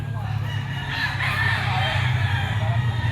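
A yellow-legged sweater gamefowl rooster crows loudly and close at a pet market, a drawn-out call over a busy background with other fowl and crowd murmur.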